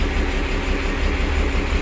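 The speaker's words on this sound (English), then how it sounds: "I think he's just got the starboard side engine going." A boat's starboard engine runs on its own, giving a steady, close, low rumble with no break and no talk.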